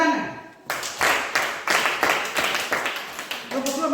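A classroom of primary school children claps hands together in a burst of sharp, fairly loud claps that starts after a brief pause and keeps a rough rhythm for about three seconds.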